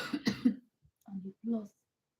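A person coughs several times in quick bursts, close and fairly loud, followed by two shorter throat-clearing coughs after a brief pause.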